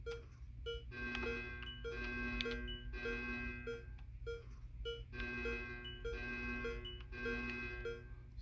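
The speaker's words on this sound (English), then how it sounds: "I'll go ahead and punch in the code." Electronic security keypad beeps in Minecraft sound in quick bursts of short tonal bleeps as a code is entered, repeating in groups over a steady low hum.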